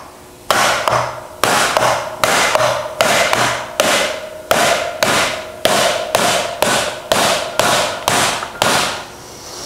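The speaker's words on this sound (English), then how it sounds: "As I'm hammering it, all this sheet metal is being crunched together and shrinking this part of the tuck." A hammer strikes sheet metal gathered into a tuck, with the panel set on a tire held in a small base. About sixteen loud, sharp metallic blows fall in a steady, even rhythm, close by, with no voices.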